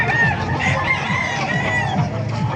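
Chickens and roosters at a poultry market in Calumpit, Bulacan cluck and call continuously, with several overlapping crows and a dense, busy flock sound throughout.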